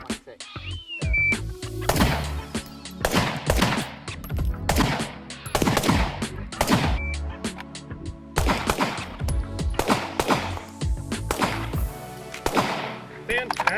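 Repeated gunshots at an outdoor shooting range firing real ammunition, loud sharp cracks spaced irregularly over the whole stretch, with voices talking between shots.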